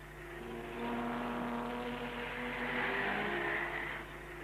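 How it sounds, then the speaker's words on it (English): 1937 Mercedes W125 Silver Arrows racing cars, 550 horsepower 5.7-litre engines, roar together at a race start before a grandstand, a sustained dense engine drone that swells and ebbs, heard faint and distant through old, muffled recording. "The 550 horsepower Silver Arrows breaking into a thunderous roar, which shakes the grandstand to its foundations."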